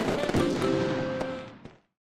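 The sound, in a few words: homemade Diwali firecracker going off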